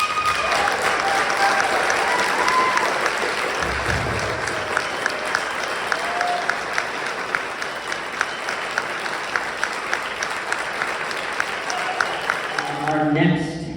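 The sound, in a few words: audience applause at band awards concert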